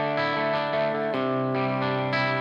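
Electric guitar chords ring out in a clean, bright tone through a Line 6 Helix modeler, changing every half second or so with sustained, slightly shimmering notes.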